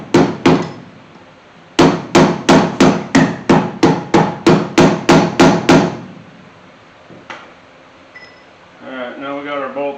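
Repeated hammer strikes tapping a bolted front-end part on a 1981 Chevy C10 squarebody shortbed being lowered: a fast run of sharp metallic blows, a brief pause, then a longer steady series, followed by quiet shop ambience and a short spoken voice.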